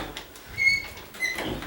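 A door squeaks as it rubs in its frame during condo rehab work, two short high squeals standing out over faint rustling, with no talk.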